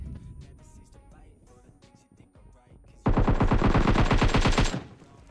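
An M249 machine gun in a video game rips off a loud, sustained burst of rapid fire lasting under two seconds, following quieter in-game sounds.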